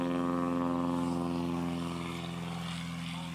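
A light aircraft, a stock dry Cessna 182, on its STOL competition takeoff roll gives a steady propeller engine drone, loud and near, fading slightly as it moves away.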